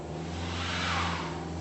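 A front-wheel drive Jaguar X-Type straining up an icy slope, its engine droning with a brief swell of revving, heard steadily from close by with no voices.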